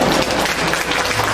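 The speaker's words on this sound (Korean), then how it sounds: "박수 한번 주세요." Brief burst of audience applause at a humanities lecture on Joseon palaces, dense and fairly loud, with no voices over it.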